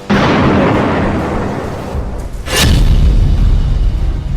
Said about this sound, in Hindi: 27 सितंबर 2024 को इसी बमबारी में नसरल्ला की मौत हुई थी।